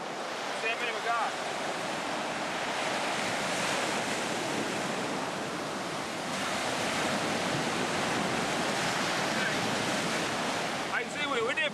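Ocean surf breaking on a beach during a fishing outing, a steady, loud, continuous wash of waves with wind that hardly lets up, and faint brief sounds near the start and end.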